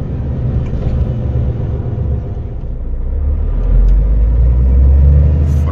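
Inside a moving truck cab in Germany, the engine and road noise form a continuous low rumble that swells louder and deeper midway as the truck accelerates, with no voices heard.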